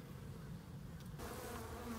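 Honeybees at the front of a backyard beehive with three frames of bees, a steady close buzzing hum of many insects that continues throughout with no voices.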